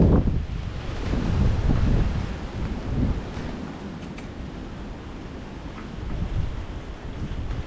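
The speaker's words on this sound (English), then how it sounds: "It is really windy here," Strong gusts buffet an outdoor microphone during Belgian Malinois scent detection training in pouring rain, producing a loud, low roaring rumble that swells and eases in waves, with no talking.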